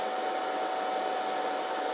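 A Cricut Venture cutting machine runs through a fast cut, giving a steady, even whirring hiss with a faint tone held throughout and no talk over it.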